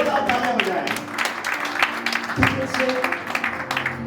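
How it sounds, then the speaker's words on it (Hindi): Guests clap for a newlywed couple at a wedding ceremony, a moderate round of applause from a gathered crowd with some tonal background sound and voices mixed in. "Let's give them a big round of applause."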